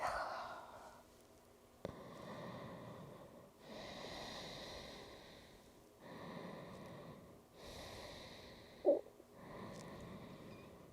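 Slow, deep breaths during a yoga flow, each long exhale and inhale rising and falling in a steady rhythm, close and soft, with a brief sharp sniff near the end and no talking.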